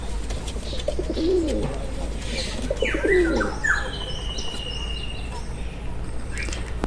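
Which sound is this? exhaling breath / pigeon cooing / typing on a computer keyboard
pigeon cooing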